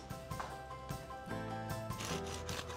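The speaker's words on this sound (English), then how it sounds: "You can hear how crispy that is." Crispy freshly baked focaccia, oven-baked with olive oil, being cut with a knife, giving a close, steady run of crackly rasping and crunching that swells and eases over a few seconds with no voices.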